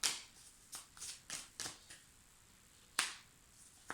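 Tarot cards are shuffled and drawn in a series of soft, close riffling bursts and flicks, with quiet pauses between them.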